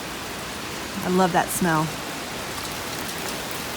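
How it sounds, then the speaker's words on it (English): Steady rain falls outdoors near mint fields, a broad even hiss running throughout, with a short spoken phrase in the middle. "Here comes the rain."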